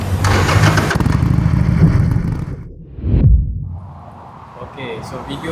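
A Harley-Davidson Sportster 883 motorcycle is heard close by, its engine churning loudly, then a brief surge and dropping into a low idle rumble.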